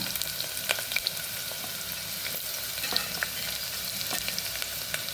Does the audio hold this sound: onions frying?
yes